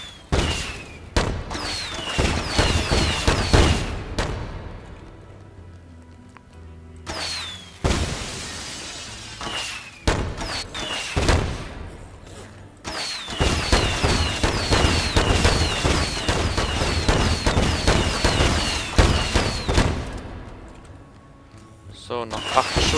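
Gunfire in the video game Dead Rising 2: rapid, loud bursts of shots in clusters separated by short pauses, with someone talking over much of the shooting.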